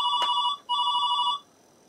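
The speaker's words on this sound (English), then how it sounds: "Oh, the phone's ringing." An electronic telephone ring from the 1990 computer game Yes Prime Minister sounds twice, as two short, bright trilling bursts separated by a brief gap, clear and alone.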